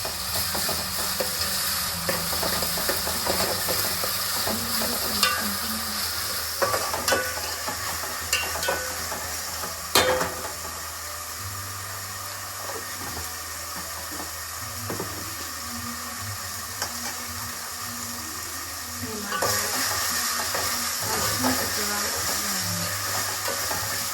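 Ginger garlic paste frying in a pan for traditional chapala pulusu, a steady close sizzle with stirring scrapes and clinks running throughout, alone without talk.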